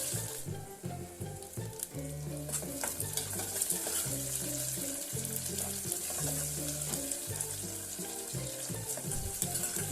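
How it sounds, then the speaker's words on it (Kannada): Onion, mustard seeds and curry leaves fry in hot oil with a steady bright sizzle, punctuated by regular stirring scrapes and clinks close by. "ಹೆಚ್ಚಿದ 1 ಈರುಳ್ಳಿ ಹಾಕಿ, ಸ್ವಲ್ಪ ಕರಿಬೇವಿನ ಸೊಪ್ಪನ್ನು ಹಾಕಿ ಫ್ರೈ ಮಾಡಿ."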